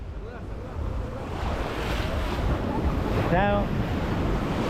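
Sea waves washing onto the shore at Playa del Carmen at night, a steady surf roar with wind buffeting the microphone and a brief spoken word partway through.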